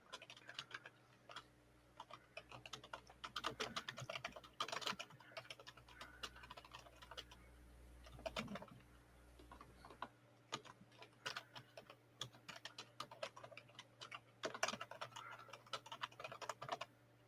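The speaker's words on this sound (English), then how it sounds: "Sorry, I'm typing." Someone types on a computer keyboard in steady, rhythmic bursts of fast, crisp clicks. The tapping is quiet and close, with a faint low hum behind it.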